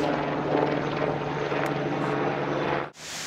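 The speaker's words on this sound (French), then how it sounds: "Avant l'arrivée du Cougar d'alerte, les hélicoptères Tigre sécurisent la zone." Tigre military helicopters fly over an exercise area, a loud continuous rotor and engine roar that holds steady for about three seconds before cutting off abruptly near the end.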